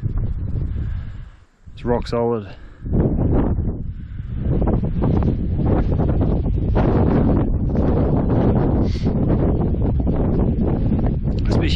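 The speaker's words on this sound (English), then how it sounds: "You can just hear that wind whipping through here." Wind whips and flaps against a Kuiu hunting tent in winter, buffeting in loud, irregular gusts close by while someone talks over it.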